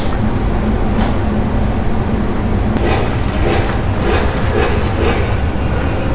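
A steady, loud rumbling and clattering runs without a break as a Lionel model train rolls continuously along its track close by, with faint higher whirring above.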